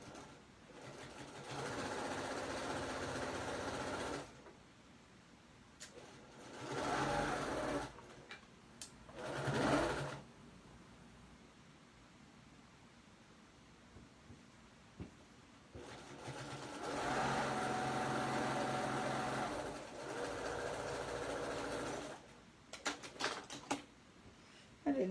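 A sewing machine stitching the liner of a fabric snap bag, running in steady whirring bursts of several seconds with short pauses and brief stop-start stitches between, fairly quiet and close.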